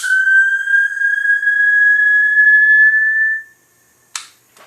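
A rebuilt Master Ultra Torch gives a loud, steady high whistle for about three seconds as it starts up, then falls quiet, followed by a brief sharp click near the end.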